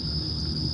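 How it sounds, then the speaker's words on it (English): Crickets chirping outdoors at night, a steady high continuous trill held evenly throughout under a low background rumble, fairly faint and distant. "it's good that the crickets are out there right now"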